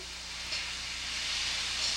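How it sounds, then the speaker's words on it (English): Chicken sizzles steadily in a hot pan, a continuous bright hiss that holds at a moderate level for the whole stretch. Nobody speaks. "hear that chicken sizzling?"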